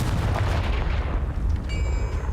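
A Confringo blasting curse explodes in the Hogwarts game, a loud, deep boom with a sustained rumbling roar filling the short clip, with a faint high ringing tone near the end.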